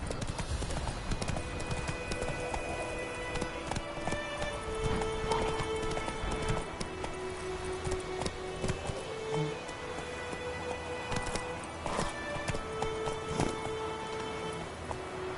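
Horse galloping in The Witcher 3: Wild Hunt, a steady rapid clatter of hooves running on through the whole stretch, with faint rain-like patter and occasional game sounds behind it.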